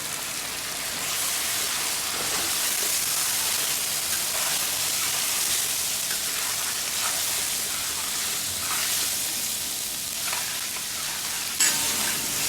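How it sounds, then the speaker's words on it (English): About two kilos of lamb sears in hot oil in a pot over medium heat for biryani, giving a steady, close sizzle and crackle with a few faint stirring scrapes and no talking. "So we will try and sear the lamb on medium heat."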